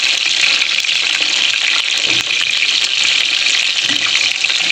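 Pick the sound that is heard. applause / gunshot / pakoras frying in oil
pakoras frying in oil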